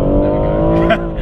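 BMW M140i Shadow Edition engine pulling hard on an open straight, a steady loud harmonic drone inside the cabin that holds for about a second with a slight rise near the end.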